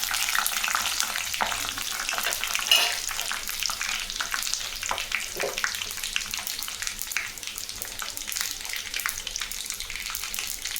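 Dried red chillies and mustard seeds frying in hot oil for tamarind rice, a steady loud crackling sizzle with dense spattering pops throughout.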